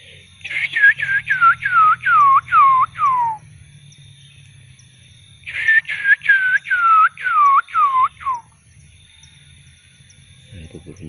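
Two bursts of clear, rapid whistled notes from a person, each a quick descending series imitating a small bird's song, outdoors in nature, with a short quiet pause between them.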